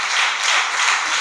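A church congregation claps in praise during a Sunday service, a dense continuous wash of many hands at fairly close range, steady throughout with no voices rising above it.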